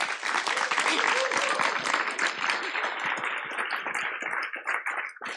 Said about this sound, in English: Please can you join me in a round of applause for our panel.